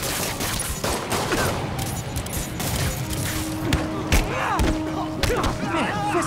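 Gunfire in the Spider-Man video game, a dense fusillade of shots and thuds mixed with game effects and voices, fairly loud and continuous throughout.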